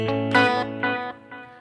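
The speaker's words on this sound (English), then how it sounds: "one sound I did use a lot was this, which is basically the same clean sound, but I crank the delays up" A clean electric guitar with delays cranked up rings out a few plucked chords, each decaying into softer repeating echoes, close and clear with no talking.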